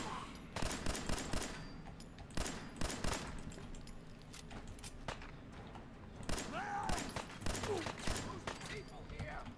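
Rapid gunfire from the Fallout 4 video game, with several bursts of shots spread through the clip amid game effects and someone talking over the action.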